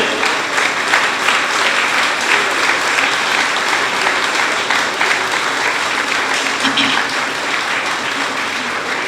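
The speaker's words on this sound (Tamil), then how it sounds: "இந்த விருதாளர்கள் அத்தனை பேருக்கும் ஒரு கைத்தட்டு கொடுங்க" An audience claps for awardees at a speech event, dense sustained applause filling the room at a loud, even level for several seconds, with faint crowd murmur underneath.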